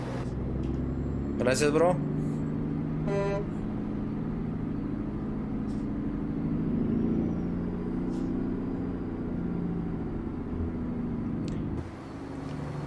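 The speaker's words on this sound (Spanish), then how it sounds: "Escuchen el motor." A Peterbilt 579 NG truck engine idles and rumbles steadily at low pitch in American Truck Simulator, a constant drone with a few sharp mechanical clicks and hisses, while someone talks briefly over it.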